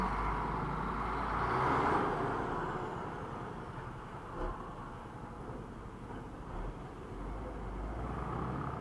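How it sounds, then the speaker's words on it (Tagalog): A truck rumbles close alongside a Yamaha Nmax V3 scooter riding through traffic, a steady broadband road and engine roar with wind buffeting throughout and no clear talk. "Katabi natin truck."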